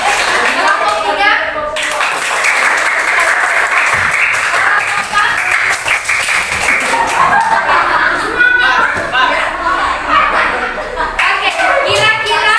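A classroom of schoolchildren claps loudly and without a break as one of the student work groups is called out. Excited kids' voices mix in throughout the continuous applause.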